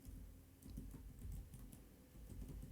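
Rapid, uneven keystrokes clatter on a computer keyboard as code is typed, a steady close run of soft clicks with brief pauses between bursts.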